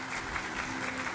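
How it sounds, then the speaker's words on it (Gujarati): Brief burst of audience applause at a devotional katha gathering, a dense wash of clapping heard briefly at moderate volume. "એકવાર એમને ખૂબ તાળીઓના નાદથી વધાવીએ"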